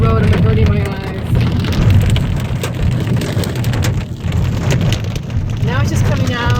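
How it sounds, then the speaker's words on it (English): Heavy rain with some remaining hail hammering a car driving through an Andes storm near Mendoza, a loud steady roar of drops on the body and glass, with people speaking over it. "Now it's just coming down. Straight rain. Whoa. Some hail still."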